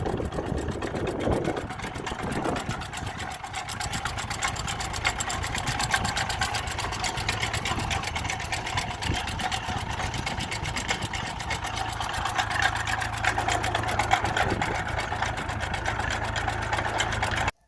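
A potato digger works a field in Rivne region of Ukraine, giving off a continuous rattling, clattering mechanical drone with a running engine, loud and steady for the whole stretch.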